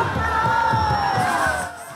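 Crowd noise from a presidential campaign rally in Bassila, Benin, a steady wash of voices and cheering with shouts rising over it, loud and continuous.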